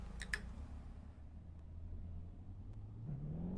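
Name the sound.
Ferrari 488 GTB turbos spooling up in a driving video game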